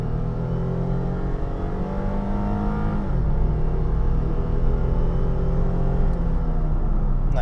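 A 2010 Lexus IS 250 with a 2.5-liter V6 and about 200k miles accelerates, its engine drone rising steadily and then stepping down at a gear change before climbing again, heard from inside the car with no talk.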